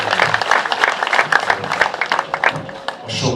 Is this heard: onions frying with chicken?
no